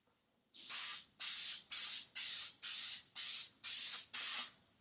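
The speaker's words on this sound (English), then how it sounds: "This is a spray adhesive. It's called 3M Super 77. And it is like a spray glue." Eight short, even bursts of hissing spray from an aerosol can of 3M Super 77 spray adhesive, each about half a second, close by with brief gaps between.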